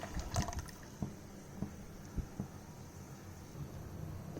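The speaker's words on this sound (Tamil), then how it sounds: "இப்போ 1 கிளாஸ் தண்ணி இதில் ஆட் பண்ணியிருக்கேன்." A glass of water is poured into a boiling tamarind masala for a Tamil fish curry, giving soft watery splashes and trickles with a few faint knocks against a low background.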